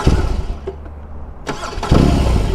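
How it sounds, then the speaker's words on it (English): A 2022 BMW R18 motorcycle with big boxer cylinders starts at the push of a button, cranking briefly before the engine catches and settles into a loud, close, lumpy idle. "as soon as I hit the start button, you're going to see the bike kind of shake a little bit, because it's got some big cylinders on it"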